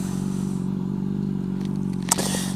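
A Honda CBR600RR motorcycle engine hums steadily and fairly quietly while riding, with a brief sharp rustle or click near the end.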